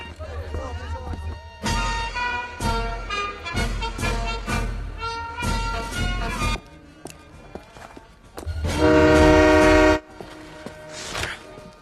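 A passing train in a Hindi-dubbed South Indian film sounds several harmonic horn toots, followed by one long, loud, steady blast near the end.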